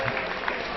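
A crowd at a women's Euros 2014 England v Northern Ireland match cheers and applauds loudly and continuously, a dense broadband roar of clapping and voices filling the whole short burst.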